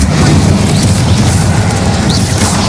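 A sustained roaring fire blast from the Incendio spell in Hogwarts Legacy, a dense, loud whooshing burst that holds steady for a few seconds without pause.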